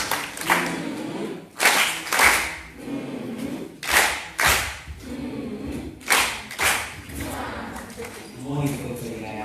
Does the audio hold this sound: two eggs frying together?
no